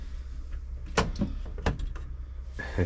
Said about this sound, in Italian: Ah, sembravano cassetti, invece è uno sportello grande.